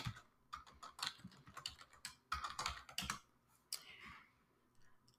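Quiet, close typing on a computer keyboard while filling out a sign-up form, with irregular bursts of key clicks and short pauses between them.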